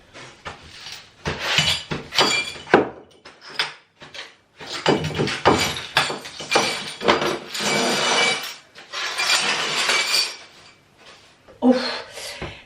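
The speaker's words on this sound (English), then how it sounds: "we've got glass everywhere" Broken glass shards clinking and scraping during cleanup, a series of loud, irregular close bursts separated by short pauses.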